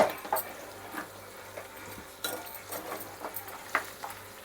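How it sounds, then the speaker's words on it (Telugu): Pieces of mutton fry in a pan for an Andhra-style mutton fry, giving a faint, steady sizzle broken by light scraping and clinks of a stirring utensil. "మొత్తం కొంచెం పచ్చివాసన అంతా పోయి మొత్తం బాగా ఫ్రై అవ్వాలి"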